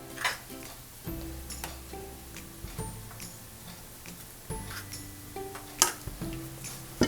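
Scrambled eggs with salt and pepper are stirred in a pan, a utensil scraping and tapping the metal in irregular close clicks and knocks, with a faint sizzle underneath.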